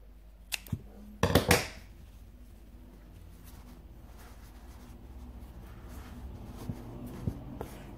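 Scissors cut the yarn at the end of a garter-stitch knitted headband: a couple of light clicks, then one loud, sharp close snip, followed by quiet faint handling noises.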